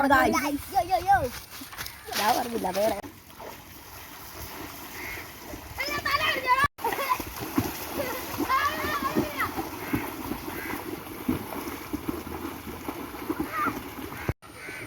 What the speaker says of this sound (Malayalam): എല്ലാവരും കൂടെ വെള്ളത്തിൽ കിടന്ന് ഭയങ്കര ചാട്ടമാണ്